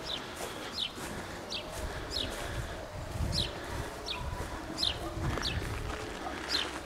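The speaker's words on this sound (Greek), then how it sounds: "Τα πουλιά." Chickens and other birds in a backyard aviary cluck and chirp in short, repeated calls, heard fairly close over a low background rumble with faint voices nearby.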